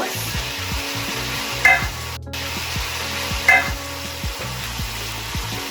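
Masala for fish biryani frying in a pan, a steady sizzle with repeated rhythmic scrapes and taps of a stirring spoon, close and clear, with a brief cut in the middle and no talk.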